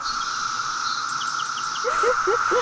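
Periodical cicadas emerging after a 17-year hibernation in the eastern US make a steady, high electric drone, with bird chirps and calls rising over it toward the end.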